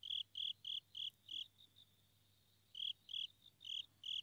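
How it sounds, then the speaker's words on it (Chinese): A cricket chirps in crisp, evenly spaced bursts, a run of five pulses, a short silence, then another run of five, faint and alone over a quiet background. "哦，有一只蟋蟀在叫呢。"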